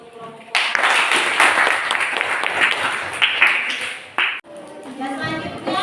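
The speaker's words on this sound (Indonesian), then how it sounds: "Kita kasih aplaus dulu untuk kelompok" Applause from a classroom of students for a presenting group, a dense steady clapping that fills about four seconds before cutting off, then a teacher's voice speaks.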